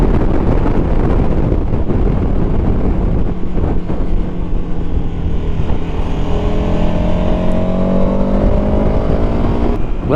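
Loud, roaring wind buffeting around a rider's helmet at speed on a 2021 KTM 1290 Super Adventure S, a constant broadband rush with the engine's rising drone faintly underneath and no talking.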